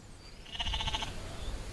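A sheep bleats once in a wavering, drawn-out call, fairly close and clear against a quiet outdoor background.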